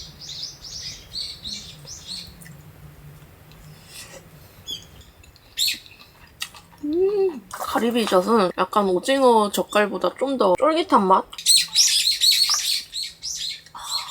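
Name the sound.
birds chirping in the morning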